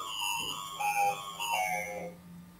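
A ringtone-like electronic melody sounds in a classroom, a few bright stepped notes rising and falling over about two seconds at moderate loudness, with faint room noise behind.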